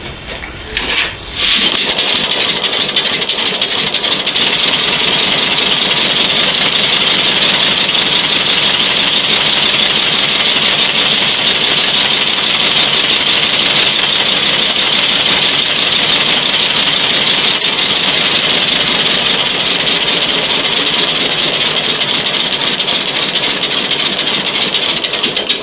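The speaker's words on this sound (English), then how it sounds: "Latest version of my air engine." A homemade compressed-air engine runs nonstop at close range, a loud, even, rapid clatter and hiss with no pause after a brief start.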